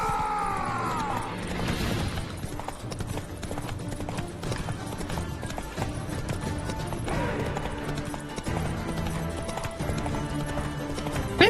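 Roach gallops through a wooded area of The Witcher 3, hooves beating in a quick rolling rhythm amid game ambience, with a neigh near the start and another partway through.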